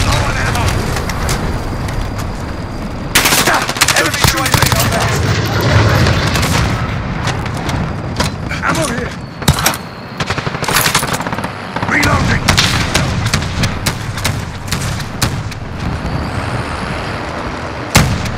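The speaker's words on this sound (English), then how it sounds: "cruise missile away." A cruise missile strike in Call of Duty Modern Warfare sets off loud, dense bursts of explosions and gunfire that come in rapid clusters amid a constant battlefield rumble, with voices talking in between.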